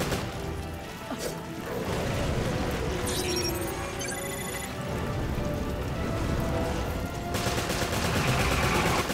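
Rapid automatic gunfire from a machine gun in Resident Evil: Revelations, sustained bursts of dense, crackling shots that run continuously across the clip alongside game effects and a few brief metallic tones.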